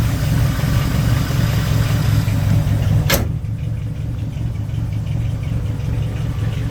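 A 1967 Chevy Nova with a 327 V8 and four-speed runs with a loud, steady low rumble, a sharp click midway, then a slightly quieter idle.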